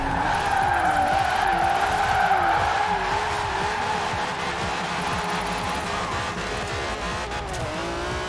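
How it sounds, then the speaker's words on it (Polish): An old Mercedes drifts in Forza Horizon 4, its engine droning loud and steady while the tyres squeal in long wavering screeches that rise and fall throughout, with no talk over it. "Czas go zrobić na drift."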